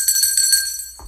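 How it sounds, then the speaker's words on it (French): A single bell strike rings out sharp and bright, its metallic tone sustaining evenly before being cut off after about a second. "un coup de cloche pour monsieur"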